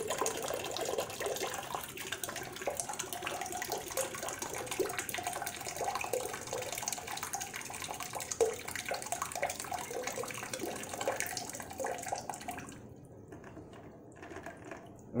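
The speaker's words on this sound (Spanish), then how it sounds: "Sacamos el agua de los flotadores y vamos a quitarle este tapón." Water draining and splashing from the floats of a Jurassic World toy submarine, a steady close trickle and gush that runs for several seconds before thinning to faint drips at the end.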